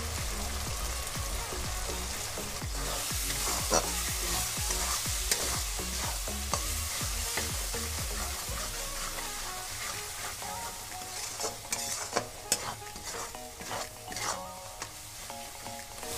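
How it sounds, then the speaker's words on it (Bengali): Chili powder and spices stirred and fried in oil for a malai chicken curry, a steady close sizzle with scraping stirs throughout, no talking. "মশলাগুলো খুব ভালো করে কষে নিয়েছি"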